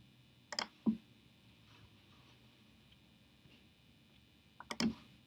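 Mouse clicks in CAM software selecting four drilled holes: a quick pair of light clicks near the start, a long quiet gap, then another close pair, all soft and near.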